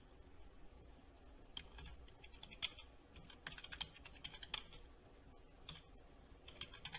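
Typing on a computer keyboard during a PostgreSQL database demo, quick irregular bursts of light key clicks with short pauses between them, close and fairly quiet, no talking.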